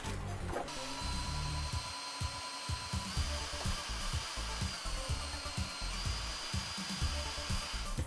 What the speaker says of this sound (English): So I'm gonna drill a hole here so that you can go in here.